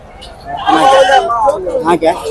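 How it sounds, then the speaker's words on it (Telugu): Male goats bleat in short wavering cries amid the chatter and bustle of a crowded market at Pebbair, with voices talking throughout. "పెద్ద సైజ్ మేకపోతులు అయితే ఉన్నాయి"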